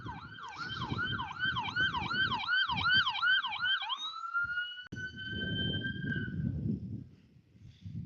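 An ambulance siren wails in fast repeating yelp cycles, then shifts to a longer steady tone as it passes through road traffic, with engine and tire rumble underneath.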